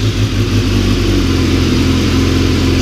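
Motorcycle engine running steadily at close range, a low rumbling idle that holds throughout after a slightly uneven start, with no talk over it.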